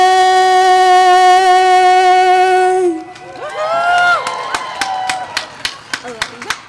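After a sung national anthem at a Veterans Day parade and observance in Auburn, an outdoor crowd breaks into cheers and whoops, then scattered sharp claps follow, fairly close; the final sustained sung note is heard before the crowd responds.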